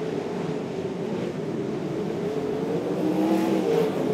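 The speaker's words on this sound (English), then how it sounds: "He's got Aaron Kelly switching to the top side and puts the move on him beautifully." Sprint cars race around Archerfield Speedway dirt track, a continuous roaring engine drone at moderate distance, steady throughout with slight rising revs near the end, no voices over it.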